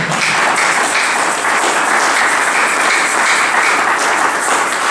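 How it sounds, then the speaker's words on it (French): A church congregation at a Sunday service applauds: steady, dense clapping from many hands, loud and sustained for the full five seconds without pause or voices. "Est-ce qu'on peut acclamer pour la parole?"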